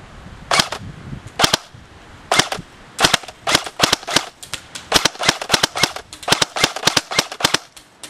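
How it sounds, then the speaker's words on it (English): An ICS MX5 PRO airsoft gun fires single shots on semi-auto outdoors in the wind, sharp snapping cracks, at first spaced apart, then quickening into a rapid irregular series. "We're going to start out on semi-fire,"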